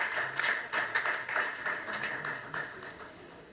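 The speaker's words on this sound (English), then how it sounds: "a huge round of applause for them" An audience at a seventh anniversary celebration for a giving foundation applauds, a faint, distant patter of many hands clapping in an uneven stream that gradually thins toward the end.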